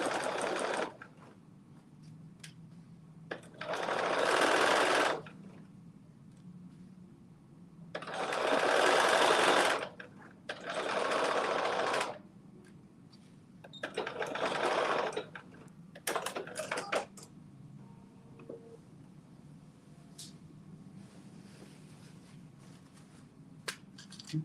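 A home sewing machine runs a 5/8 inch inner leg seam in short bursts of rapid, even stitching. Several runs of varying length are separated by quiet pauses, and the machine is heard up close.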